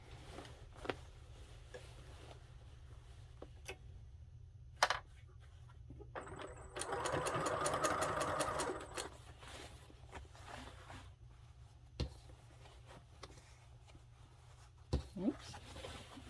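A sewing machine stitches a patch onto torn jeans in a short burst of rapid mechanical whirring lasting about two seconds, close and moderately loud, with soft handling clicks and taps before and after.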